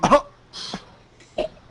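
A person imitates coughing during a tabletop role-playing game session: a sharp close cough followed by a couple of softer, breathy hacks and throat-clearing sounds.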